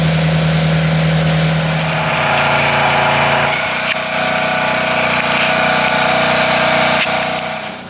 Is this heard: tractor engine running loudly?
yes